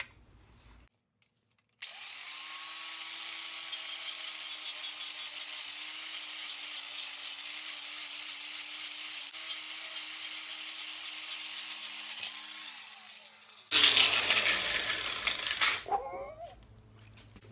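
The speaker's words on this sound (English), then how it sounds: "whenever this wire wheel eats away at the softer bits, you're going to be left with the harder bits" A wire wheel abrades a wooden apothecary cabinet part, wearing away the softer grain: a loud, steady high-pitched grinding whir runs for about twelve seconds, then breaks into a harsher, louder scraping burst before stopping.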